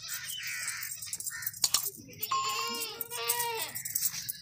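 Goats, including healthy milking does, bleat in wavering, close calls, one long quavering cry after a brief clatter, with faint background noise and scattered sounds of movement.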